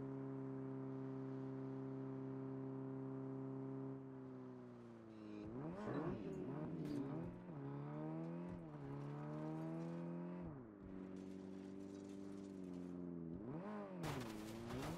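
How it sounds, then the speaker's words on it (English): Engine drone of the Bowel Rod, the tapeworm's vehicle in the video game Saints Row, a heavy septic-truck-like motor that hums steadily, then revs up and down in repeated surges with whirring over a low rumble. "The bowel rod, the tapeworm's vehicle, like, totally sounds like a giant septic truck."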